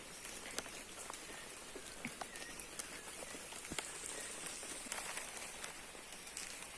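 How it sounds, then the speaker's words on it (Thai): Steady rain patters on surfaces nearby, with scattered louder drips landing throughout a constant soft hiss. "วันนี้ฝนตกตลอดเลยอะ"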